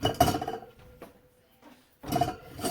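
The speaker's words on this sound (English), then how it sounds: "I'm just going to put the tomatoes into a pot" Tomatoes dropped into a metal cooking pot, two clattering bursts of knocks and clinks about two seconds apart, with a faint knock and quiet handling in between.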